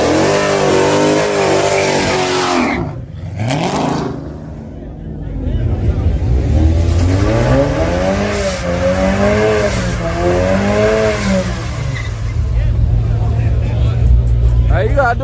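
A turbocharged V6 car doing a burnout revs hard and loud, its engine pitch climbing and falling in repeated sweeps with a steady roar underneath, while people talk nearby.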